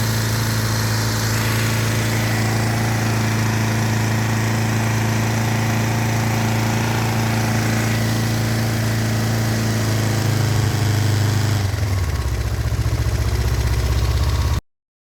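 A Kawasaki Ninja EX500 motorcycle engine idling steadily and loud up close, with a continuous low hum that shifts lower near the end before cutting off.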